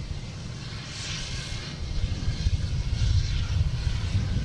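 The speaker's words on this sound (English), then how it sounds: "next to land is a Delta landing on 4 left" A Delta airliner landing on runway 4 left at Boston Logan, heard as a steady low engine roar that swells slightly as it nears, with no talk over it.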